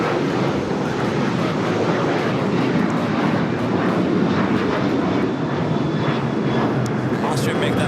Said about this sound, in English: we turn our attention to this Global 5500 coming in from Van Nuys.